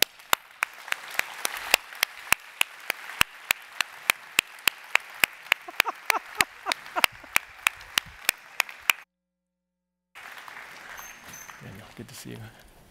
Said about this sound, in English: let's give them a big hand as they come on